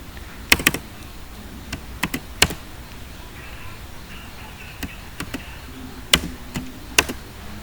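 Someone types on a computer keyboard, producing sparse, sharp, close key clicks in small clusters over a quiet room hum, with no talking.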